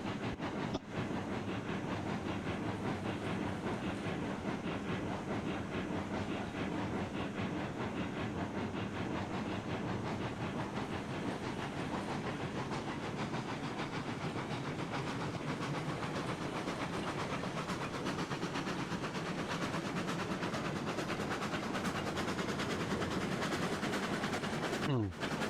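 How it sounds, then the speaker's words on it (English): An empty freight train in the Railroads Online video game rolls along the rails with a steady, continuous rumble and hiss that holds level for the whole stretch, without a break. "Just pull this empty train up here, no problem."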